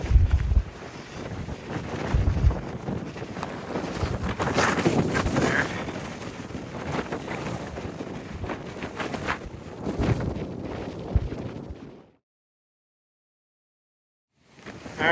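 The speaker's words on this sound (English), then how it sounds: "Alright, so it's pretty windy up here," Strong wind on Wasson Peak near Tucson buffets the microphone in loud, roaring gusts for about twelve seconds, then cuts to silence before rumbling back briefly at the end.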